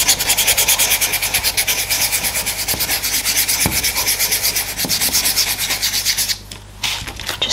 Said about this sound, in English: Just getting a scrap piece here and I'm just rubbing the excess off.